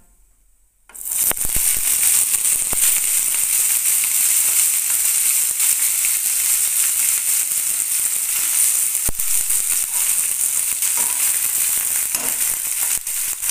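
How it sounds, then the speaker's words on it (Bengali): Boiled cauliflower stems drop into a pan of oil with fried mustard seeds and dried chillies, bursting into a strong continuous sizzle after a second of silence, with a few sharp pops and clinks along the way. "সর্ষে এবং শুকনো লঙ্কা ভেজে নেওয়ার পরে সেদ্ধ করে রাখা কপির ডাঁটাগুলো দিয়ে দিলাম।"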